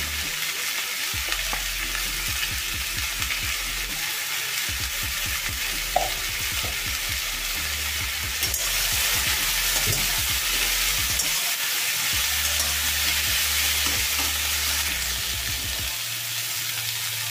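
Potatoes, onions and cauliflower fry in a pan with salt and turmeric, giving a steady close sizzle throughout, broken by repeated scraping and clattering as a spatula stirs them.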